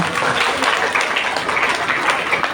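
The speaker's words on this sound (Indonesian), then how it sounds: "Tepuk tangan untuk Aksara" Children clapping for a classmate in an Indonesian classroom, a short burst of scattered, fairly close hands that holds steady throughout without anyone speaking.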